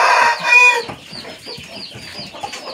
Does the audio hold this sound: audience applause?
no